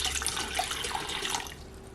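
Water runs steadily from a tap into a hotpot, filling it toward the minimum line with a constant close splashing rush.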